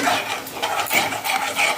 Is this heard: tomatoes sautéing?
yes